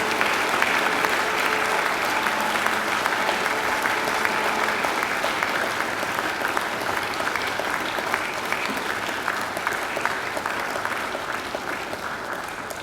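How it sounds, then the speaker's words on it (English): Graduates at a university graduation ceremony applaud their families and friends, a broad, dense roar of clapping from a large crowd in a hall, sustained at steady volume and slowly tapering toward the end. "And now I ask you to give them a mighty round of applause."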